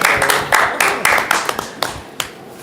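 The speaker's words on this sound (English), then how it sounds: "you all deserve a real round of applause." A few people clap at a school board of education meeting, loud close claps in a loose uneven rhythm that thins out toward the end, with some background voices faintly underneath.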